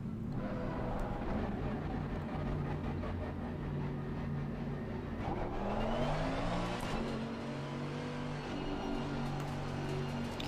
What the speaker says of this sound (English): Would help if I turned on the car,